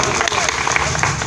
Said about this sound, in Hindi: स्वागत करते हैं जोरदार तालियों के साथ।